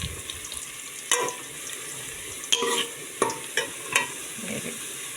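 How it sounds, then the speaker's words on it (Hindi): A tadka of tomato and garlic cooks in a pan, with soft sizzling and intermittent stirring scrapes, quiet and close, no talking. "अभी मैं तड़का बनाने लगी हूँ।"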